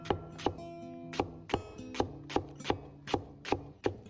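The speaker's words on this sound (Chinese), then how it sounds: "改刀切成细丝" A knife slicing half a papery-skinned onion into thin strips on a cutting board, with around ten steady, crisp chops in an even rhythm and no talking.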